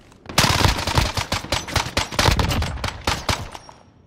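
Rapid automatic gunfire from Call of Duty: Modern Warfare, loud and close, with dense bursts and single sharp shots in an uneven rhythm, no voices over it.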